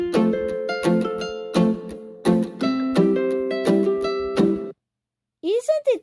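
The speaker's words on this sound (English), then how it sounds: "Isn't it better that you hear a background music in that beautiful view, beautiful sea?" Bright plucked or keyed melody playing as background music added in a video editing app, a run of fairly loud rhythmic notes that stops abruptly, then a short burst of a swooping tonal sound after a brief silence.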